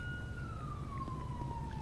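Police car siren from a patrol vehicle in the video game LSPDFR, a single tone sliding slowly downward over a low engine rumble, moderately faint and steady.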